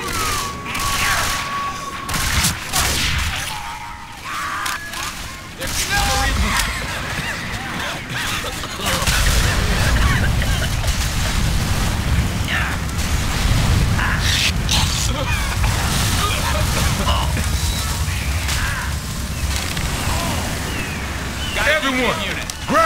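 Gunfire fills a Left 4 Dead 2 custom-map battle with dense, continuous volleys and booming bursts, loud and sustained. Players shout over the shooting at times.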